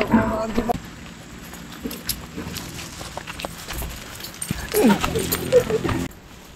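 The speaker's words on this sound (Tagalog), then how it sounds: "Susi mo maingay." Keys jingle and clink intermittently near the microphone, mixed with scattered clatter and a voice talking over parts of it.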